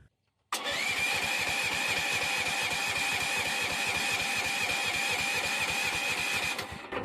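A Chinese mini excavator's small engine, just after a choke adjustment, fires up abruptly and runs with a loud, steady, rapid chugging throb close by, then cuts off near the end.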